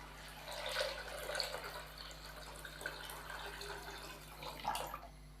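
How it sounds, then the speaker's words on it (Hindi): Water poured into a pot of fried chana dal, a faint continuous trickle and splash with a few brighter spurts, quiet and close. "अभी हम इसके अंदर पानी शामिल करेंगे।"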